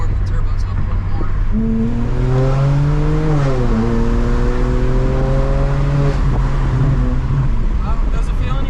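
BMW 335i with an upgraded fuel pump and E50 tune accelerating hard, its engine note climbing steadily in pitch before easing off, loud and close as heard from inside the car.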